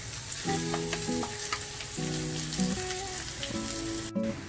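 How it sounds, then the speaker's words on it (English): Day-old rice being stir-fried in a pan gives a continuous close sizzle broken by repeated scraping stirs of the utensil. "Stir fry for 10 minutes. Add the day-old rice."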